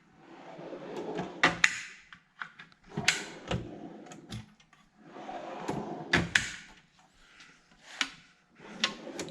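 A tool chest drawer slides open and shut several times, metal runners rolling and ending in sharp thuds and clatters, with quiet pauses between.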